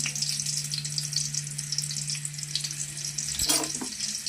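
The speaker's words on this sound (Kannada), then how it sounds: "ಇದಕ್ಕೆ 1-2 ಸ್ಪೂನಷ್ಟು ಎಣ್ಣೆ ಹಾಕ್ಕೊಳ್ಳೋಣ. ಅರ್ಧ ಹೋಳು ಈರುಳ್ಳಿ ಹಾಕ್ಕೊಳ್ಳೋಣ." Half a sliced onion fries in a spoonful or two of oil in a pan for chicken bassaru sambar, a continuous bright hiss with a low hum beneath and a brief clatter near the end.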